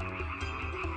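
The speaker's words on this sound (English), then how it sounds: "The river Nile swarmed with frogs that invaded everywhere and jumped everywhere." Several frogs croak continuously and close by in a dense chorus, with harmonic calls pulsing roughly every fifth of a second.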